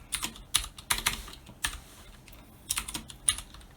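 Computer keyboard typing a short line of code, with quick irregular key clicks in small clusters, close and fairly quiet with no talking.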